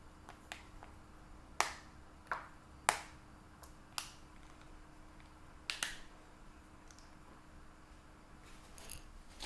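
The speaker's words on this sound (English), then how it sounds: "We're just going to get this and break it up into pieces and then add it in." A bar of chocolate being broken into pieces by hand for hot chocolate, heard as a series of sharp, close, dry snaps spaced irregularly over quiet room tone.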